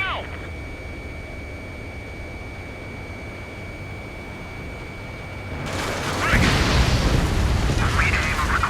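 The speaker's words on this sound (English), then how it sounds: "Fire anti-air guns, now!" Anti-air gunfire and explosions in Ace Combat 7 rise after a long stretch of steady tonal drone, turning into a loud, dense rumble of bursts toward the end.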